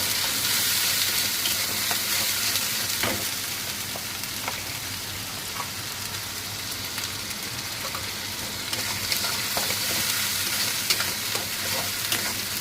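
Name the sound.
spice paste frying in a pan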